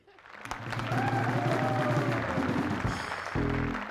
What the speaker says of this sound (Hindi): मेहरबानी करके तालियां तो बजा दीजिए